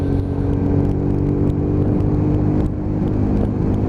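A Lexmoto ZSX-F 125 motorcycle ridden at steady speed, a continuous loud engine drone with wind rush heard from on board, holding an even pitch throughout.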